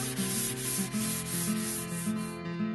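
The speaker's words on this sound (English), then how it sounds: "And then scuff sand it if needed to remove the little nubs." Scuff sanding shellac-sealed quarter sawn white oak by hand, a steady rhythmic scratchy rubbing with repeated back-and-forth strokes, close and alone, ending abruptly.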